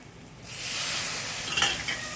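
Tomato pieces drop into hot oil with half-cooked capsicum and are stirred, setting off a sudden swelling sizzle that holds steady with a brief scrape of the spoon, close and loud without speech.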